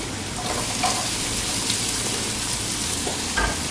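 Onion frying in a pan for pancit canton noodles, a continuous hissing sizzle with a few faint clinks and scrapes near the end.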